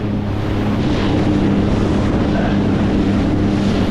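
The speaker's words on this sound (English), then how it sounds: "Oh, the winds came up on us." Strong wind roars over a choppy sea, with heavy gusts buffeting the microphone and waves slapping nearby, a steady loud rush throughout.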